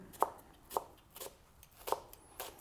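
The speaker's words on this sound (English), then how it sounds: "We're going to chop up our red onion" A knife chops red onion finely on a cutting board for a blini and sour-cream topping, with sharp, separate knocks at an uneven pace and no talking.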